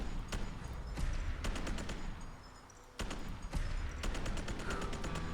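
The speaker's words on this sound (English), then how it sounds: "There he is! Oh, good, I've just shot him." Rapid bursts of AEK-973 rifle fire in Fallout 4, sharp shots in quick strings with a short gap midway, loud and close over a busy background.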